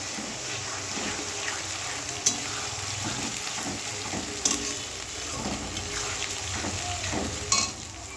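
Ginger-garlic paste with green and dried chilli paste frying among onions in a pan, a steady close sizzle with soft stirring scrapes and a few sharper clinks, no talking.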